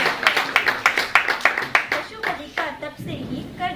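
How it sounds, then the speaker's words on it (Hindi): A crowd at an Agrasen Jayanti bhajan evening claps in distinct, rhythmic unison beats, loud and close, for about three seconds before the claps thin out as voices and a tonal sound take over. "जोरदार तालियां अग्रसेन महाराज के लिए।"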